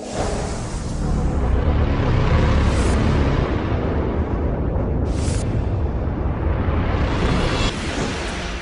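A continuous loud roar of fire and explosions tearing through the Pentagon building after a plane crash, with sustained rumbling and whooshing bursts and no voices.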